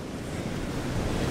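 Ocean surf roars steadily at the seashore under strong wind, with heavy wind noise buffeting the microphone and no talk.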